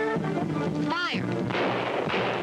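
Gunfire rings out in a 1945 jungle adventure serial: sharp shots mixed with a whining, ricochet-like tone and continued blasts over a noisy film soundtrack.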